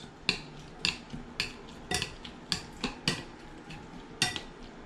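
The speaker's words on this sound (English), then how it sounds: "We mix everything." Pico de gallo of chopped whole tomato and cilantro mixed in a bowl, with a regular rhythm of close utensil clinks and scrapes about twice a second.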